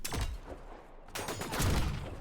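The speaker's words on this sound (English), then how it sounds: "I think it's time for the assault rifle though." Assault rifle fire in the game Signal from Tölva, rapid bursts of close gunshots with a short lull in between, loud and crackling.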